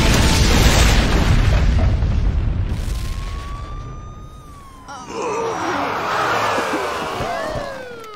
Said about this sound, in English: We came when we saw the explosion.